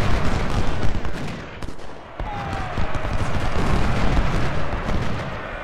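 Dense, continuous battle noise from the American Civil War video game Ultimate General: Civil War, with booming cannon blasts and crackling musket volleys, loud and unbroken throughout.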